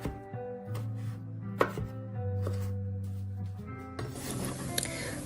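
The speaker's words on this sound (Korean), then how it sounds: "먼저 얇게 자르고 다지듯이 잘라주세요." A knife finely chopping cherry tomatoes on a cutting board, a few crisp close cuts followed by a quicker burst of chopping, over a faint steady hum.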